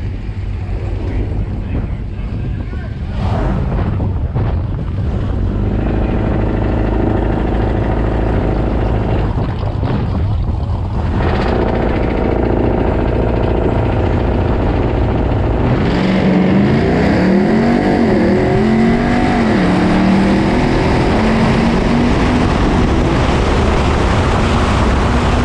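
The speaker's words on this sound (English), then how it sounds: "we just ran that first run against Eric in his TRX" Ram TRX trucks rumble and roar at a drag strip, a dense, loud engine drone that builds into a rising, revving launch roar in the second half, with wind buffeting throughout.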